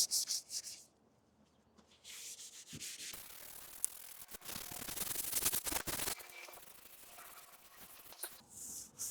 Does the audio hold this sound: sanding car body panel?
yes